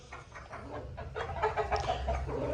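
A rooster clucks repeatedly in short, throaty bursts, fairly close, with some low background rumble.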